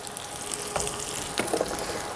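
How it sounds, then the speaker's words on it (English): Zucchini fry in a hot pan with a continuous close sizzle, plus a couple of brief louder spatters or stirring clatters. "Let's throw in all our zucchinis in."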